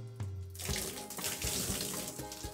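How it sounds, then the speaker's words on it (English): Water pours and splashes steadily in a bath as soap is rinsed away, a loud, close, continuous gush with a few brief changes in flow and no talking. "Sometimes you have to pour the water many times."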